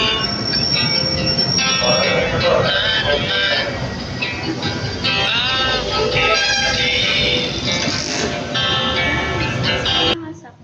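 LRT light rail train running through a station, with loud screeching wheel squeal, rumbling carriages and metallic whines close by, sustained throughout.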